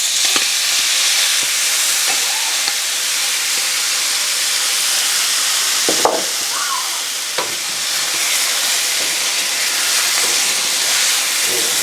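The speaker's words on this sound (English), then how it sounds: "I'm going to add in my enchilada sauce now. And we're just going to let this cook all together" Enchilada sauce with home canned chicken cooking together in a pan on the stove, a steady close sizzle and hiss with occasional stirring clicks and scrapes.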